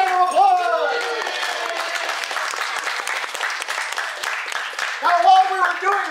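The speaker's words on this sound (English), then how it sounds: "Give yourself a round of applause." Loud, dense applause from a concert audience at Pennsic 50 fills the room and holds steady throughout, with a voice speaking briefly at the start and again near the end.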